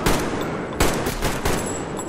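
Gunfire in Metro Exodus, a post-apocalyptic shooter game: three loud, sharp bursts of shots about half a second apart, each with a booming low-end tail, over continuous noisy background.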